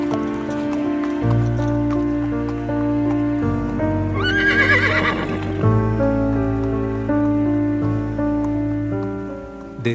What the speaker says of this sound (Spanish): el profesor Taldraes miraba preocupado cómo pasaban las personas con sus caballos flacos y enfermos